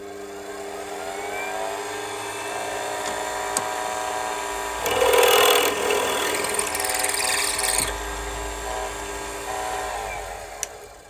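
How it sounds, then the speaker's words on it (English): A small drill whirs steadily, with a louder rasping grind midway as the bit bites into a brass tube, then settles back to a hum. "second hole drilled"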